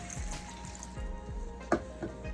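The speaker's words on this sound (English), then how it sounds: "I'm just gonna add a little bit of water to it," Water poured into a cooking pan while salmon, butternut squash and string beans are prepared, a soft running, trickling sound with a brief splash, close by and quiet, with no talk.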